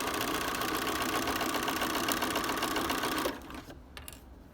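Stitching the strap of a canvas tote bag, a sewing machine hums steadily up close for a few seconds, then stops, leaving a quiet room with a couple of small clicks.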